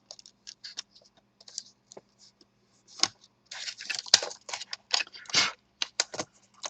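Keyboard being pressed back into an Acer Aspire 5741 laptop, heard as a string of sharp plastic clicks and taps, irregular and close, with quiet gaps between bursts.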